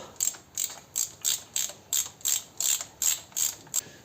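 A ratchet wrench clicks in about ten evenly spaced bursts while loosening 10 mm bolts on a BMW E60's M54 engine during a water pump and thermostat job, crisp and close with no talk.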